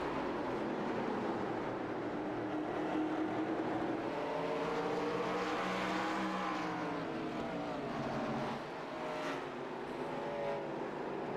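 Next Gen race cars lap North Wilkesboro Speedway, a steady engine roar that swells as the cars sweep past and fades away, with a continuous far rumble underneath.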